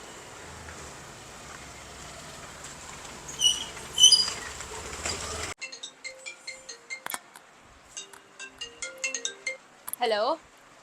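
A mobile phone ringtone, faint and distant at first over background noise, then a clearer chirping tune of short repeated notes, ending in a brief sweeping electronic sound.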